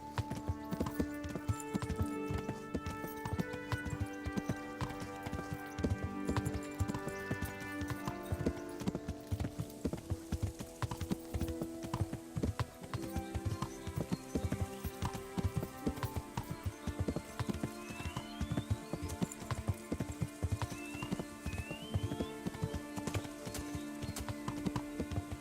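Horses clip-clop steadily on hard ground at a stable in the medieval video game Kingdom Come: Deliverance, overlapping hoofbeats close by over a bed of game music.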